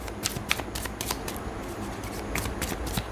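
Tarot cards are shuffled and drawn in a quick run of close, crisp riffling and sliding taps that last for a few seconds with no talk over them.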